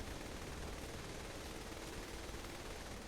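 Gunfire in the Saints Row The Third video game forms a dense, unbroken rattle of rapid shots, steady and fairly quiet throughout without pauses or talk.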